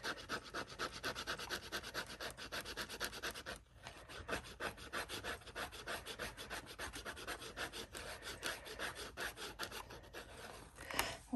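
A layer of Caran d'Ache Neopastel oil pastel is scraped down with steady repeated rasping strokes, close and quiet, with one brief pause partway through.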